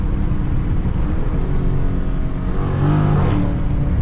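Close, loud low rumble of a Dodge Charger Scat Pack widebody V8 engine, a stuttering, uneven idle that swells into a brief rev near the end, with no one talking.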